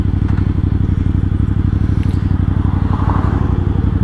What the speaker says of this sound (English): Sport bike! Near,